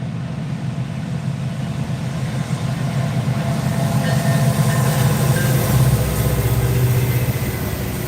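Reading and Northern freight train passing close by, a loud, steady rumble of rolling cars and wheels with faint clacking, holding strong for the whole stretch and swelling slightly in the middle.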